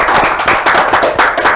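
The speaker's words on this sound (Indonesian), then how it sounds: "Jadi boleh dong sekali lagi kita tepuk tangan ya." An audience claps together at a campus talk event in Makassar, a brief dense burst of many hands sustained throughout, fairly close and loud with no talk over it.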